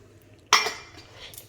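A metal lid set onto a cooking pot of cauliflower curry, one sharp clanking clink followed by a brief ringing settle, close and clear in a quiet kitchen.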